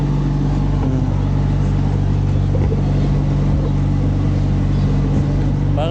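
Engine roar of a fast passenger boat powered by three engines, a loud, steady drone that holds throughout, with voices faintly audible beneath it.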